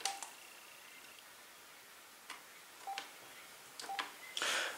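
Keypad tones from an AT&T SynJ SB67118 desk phone, a few short separate beeps scattered across a quiet background, with a louder burst of noise at the end.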